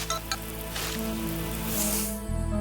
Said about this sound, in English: Marshall, use your water cannon to give the plant a drink.